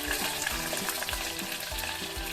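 Garlic cloves fry in oil in a clay pot for vatha kuzhambu, giving a continuous soft sizzle broken by low, rhythmic scrapes of stirring, heard close and fairly quiet with no talking.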